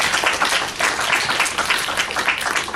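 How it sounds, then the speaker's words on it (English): A furry convention audience applauds in a steady, dense burst of many hands clapping, loud and continuous with no pause. "So give yourselves a round of applause for what you are capable of doing."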